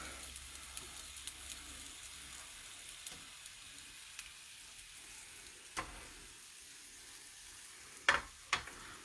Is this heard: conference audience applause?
no